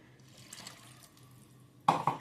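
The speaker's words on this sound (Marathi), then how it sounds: "थोडं पाणी घालूया" Water poured into a pot of whole masoor lentil curry, a brief splashing pour arriving near the end after a quiet stretch, close and fairly loud against faint kitchen background.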